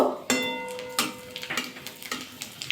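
Fried peanuts and finely chopped dried chillies are stirred in a pan over low heat, giving a few distinct scraping strokes and clatters over a soft, steady sizzle, close and moderately loud.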